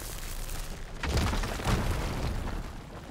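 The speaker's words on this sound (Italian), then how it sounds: "Esplosione, sì." An in-game explosion in Horizon Forbidden West on PS5: a moderate, rumbling boom rises around the one-second mark, with a second burst shortly after, followed by a lingering low roar.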